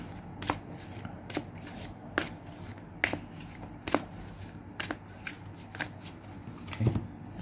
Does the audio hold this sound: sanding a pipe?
no